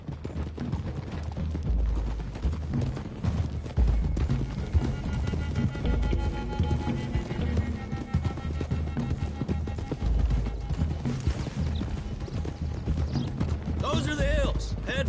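Horses gallop in a video game Western ride toward the hills, with continuous rapid clip-clop hoofbeats loud and close throughout, under in-game dialogue.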